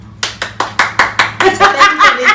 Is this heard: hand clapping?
yes